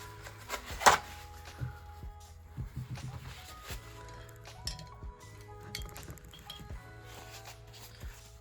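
A quarter-inch paintbrush is rinsed in a water jar during acrylic painting, making soft close swishes and a few clinks and taps of the brush against the glass, quiet and with no talk.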